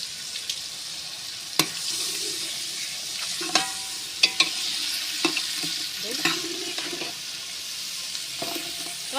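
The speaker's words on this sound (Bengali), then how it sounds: "সবজি এখন এখানে ফ্রাই করে দেবো" Vegetables sizzle and fry in a pan while being stirred for a Pakistani-style dish, a constant hiss broken by scattered clinks and scrapes of the utensil against the metal.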